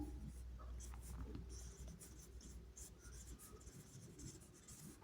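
A pen or chalk writes notes during a protein chemistry lesson, a faint continuous scratching with small strokes, heard close but quiet under low room noise.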